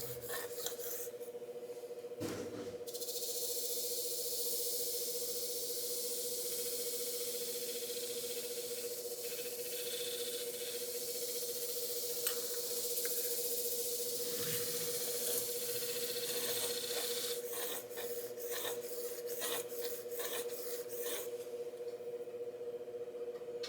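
Damaged shears being ground on a knife sharpener, a steady, continuous grinding hiss with a sustained motor hum throughout, briefly dipping near the start and ending with a few short scraping passes.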